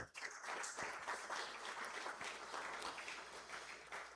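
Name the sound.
applause for the university choir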